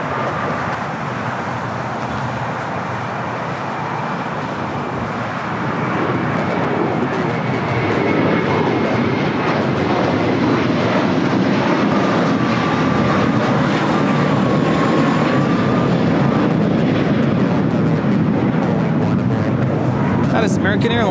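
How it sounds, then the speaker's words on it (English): An American Airlines Airbus A321 departs LAX for Dallas Fort Worth, its jet engine rumble growing steadily louder from about a third of the way in and then sustaining a heavy, broadband roar, with people talking underneath. "That is American Airlines 1657 taking off to Dallas Fort Worth on the A321."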